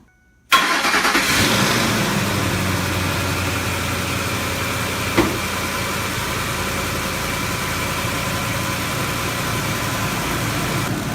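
A Ford with a 4R70W automatic transmission, low on fluid, cranks and starts after a short silence, then settles into a steady, close idle that runs for about ten seconds with a brief bump in the middle.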